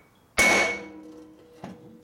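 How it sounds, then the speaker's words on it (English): One sharp, ringing metallic strike from a steel hammer on a Harley-Davidson Shovelhead engine part during a rebuild, its tone decaying slowly, followed by a softer second tap about a second later. "That's why I use a big hammer and steel."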